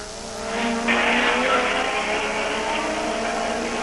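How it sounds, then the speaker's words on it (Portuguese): A 1986 German Grand Prix Formula 1 car engine wails steadily at high pitch, a sustained sharp drone that rises in intensity after the first second and holds, with no talking. "Aí nós vamos voltando com o carro de Ricardo Patrese, com problemas aí no box"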